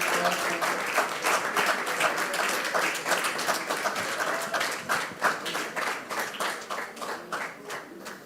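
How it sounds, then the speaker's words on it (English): Sustained audience applause at a young professionals' workshop, honoring the SPE Ghana team as they come forward, dense steady clapping from a crowd that gradually thins toward the end. "Please, let's give them a round of applause."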